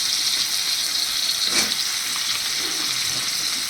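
Ridge gourd pieces dropped into a pan of potatoes frying in oil, giving a bright, steady hissing sizzle with a sharp louder burst as they land, then continuing crackle close by.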